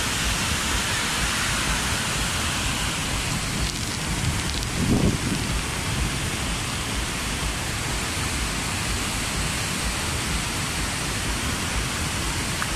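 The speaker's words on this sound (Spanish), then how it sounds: "Fijaros qué bonito las cascadas de este lado." Ban Gioc waterfalls in Vietnam roar as a dense, steady wash of falling water, loud and continuous with no break, filling the whole scene evenly.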